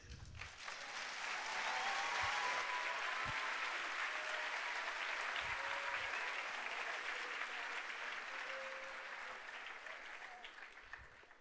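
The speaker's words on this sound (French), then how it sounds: "On peut les applaudir." Audience applause at a Sunday evening gathering, a broad, continuous burst of clapping that swells in the first seconds, holds steady, then tapers, with a few faint voices and low thuds mixed in.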